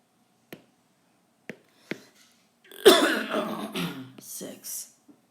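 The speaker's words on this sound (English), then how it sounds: "My coughing's getting the best of me." A person coughs and clears their throat close to the microphone in a short rough cluster after a few faint isolated clicks, with a voice briefly heard around the coughs.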